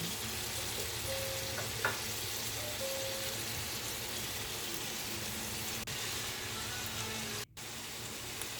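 Bitter gourd and beaten egg cooking in a frying pan, giving a soft, steady sizzle with faint stirring sounds and a brief clatter near the end, no voices.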